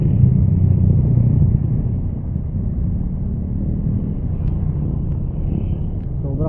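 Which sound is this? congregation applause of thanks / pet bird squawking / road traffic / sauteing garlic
road traffic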